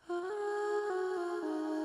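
Waves Tune Real Time set for a hard-tuned effect, making a sung vocal note snap between pitches in robotic, stepped jumps, one sustained line less than two seconds long, close and fairly quiet.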